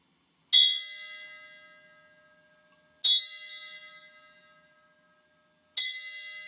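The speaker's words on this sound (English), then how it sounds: "we toll the bell in honor of our troops" A single bell tolls three times in honor of troops at a high school graduation ceremony, each clear, ringing strike fading slowly before the next, with quiet between.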